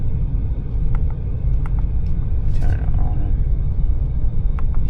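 A Mercedes-Benz S580 sits running just after start-up, its engine a steady low rumble heard from inside the car, with a few faint clicks and soft cabin sounds over it and no talking.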